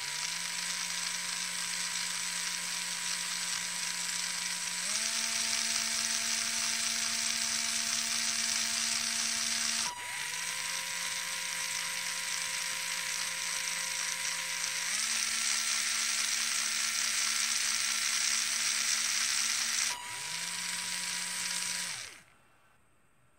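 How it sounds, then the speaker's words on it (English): A small DC motor controlled by an Arduino Uno through an L298N driver whines steadily, its pitch stepping between four speed modes every five seconds before cutting off abruptly near the end. "I will start a program and you should see that the motor spins in four different modes"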